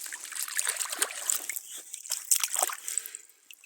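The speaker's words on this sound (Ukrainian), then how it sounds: "Так, зараз помиємо, якраз є де помить, якщо сам не булькну по коліна." Water sloshes and trickles in a swamp as a dug-up find is rinsed, with irregular splashes and dribbles close by, no talking.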